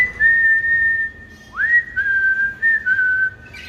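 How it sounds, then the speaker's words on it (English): A person whistles a clear, high tune, sustained notes with a quick upward slide partway through, alone with no talking. "but I whistle a ton"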